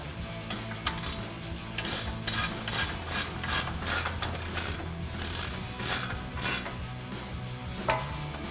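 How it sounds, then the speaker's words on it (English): A 21mm ratcheting wrench tightens a nut on a Toyota Tacoma suspension during a lift kit install, with rapid bursts of clicking pawl ratchets repeating in quick strokes, close up and loud, with no talk. "then we're gonna grab our 21mm ratcheting wrench and tighten that down"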